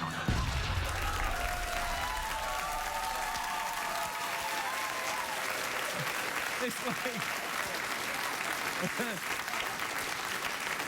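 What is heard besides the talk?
studio audience applause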